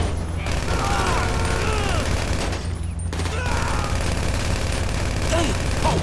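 Gunfire bursts in a video game, repeated shots running almost continuously over dense game music and engine noise, with a voice talking across parts of it.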